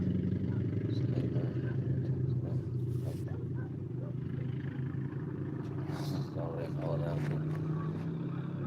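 An ATV four-wheeler engine rumbles steadily at close range, a continuous low drone that holds throughout beneath a voice talking.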